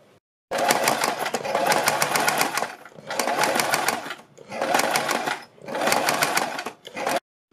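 A sewing machine runs stitch lines along the edges of kurti neck strips in four bursts, each roughly one to two seconds of steady, close, loud stitching with short pauses between.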